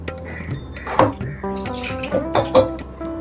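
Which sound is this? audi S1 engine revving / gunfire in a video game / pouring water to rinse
pouring water to rinse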